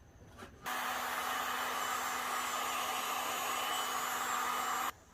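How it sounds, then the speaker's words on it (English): Heat gun blowing on a resin-coated wine glass, switched on with a steady close whooshing hiss and a constant motor whine, then cut off after about four seconds. "I'm going to go ahead and just get out my heat gun again."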